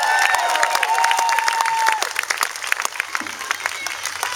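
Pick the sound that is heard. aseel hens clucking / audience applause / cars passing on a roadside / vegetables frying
audience applause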